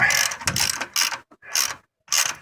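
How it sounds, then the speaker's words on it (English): Ratchet with a 1/2 inch deep well socket loosening a nut on a 700R4 TV cable bracket, five loud, close bursts of rapid clicking separated by short pauses. "All right, got a 1/2 inch deep well. We're just going to loosen this nut."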